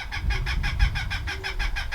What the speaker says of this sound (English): our little chicken is looking for her flock